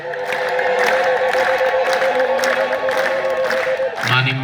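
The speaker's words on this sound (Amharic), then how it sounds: "እስኪ እልልታ ጨምሩበት" A religious congregation praising Saint Gabriel claps and ululates together, a dense, loud and continuous wall of trilling voices and applause that dips briefly near the end.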